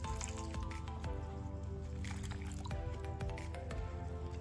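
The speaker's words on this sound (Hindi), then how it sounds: "बेसन में कटा हुआ हरा धनिया डालेंगे, थोड़ा थोड़ा पानी डाल के इसको घोलेंगे।" Water added little by little while gram flour batter with chopped green coriander is whisked for cheela, giving soft continuous squishing and wet slapping with light drips, steady and close throughout.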